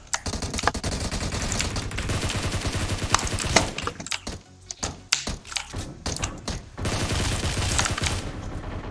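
Rapid bursts of video game gunfire crack through a battle-royale match, dense automatic volleys and single shots in quick succession, loud and close, with brief lulls between exchanges.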